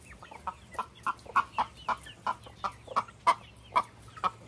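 Chicks and hens in a coop give a steady run of short clucking calls, about a dozen evenly spaced, close and clear with no talk.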